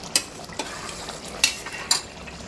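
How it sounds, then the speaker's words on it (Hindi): Mutton salli boti pieces roasting in oil in a pan for a Parsi recipe, a steady low sizzle broken by three or four sharp scraping stirs of a spoon against the pan. "यहाँ पे देखें मटन की भुनाई बहुत ही अच्छी से हो गई है"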